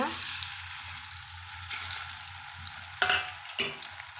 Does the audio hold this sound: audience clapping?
no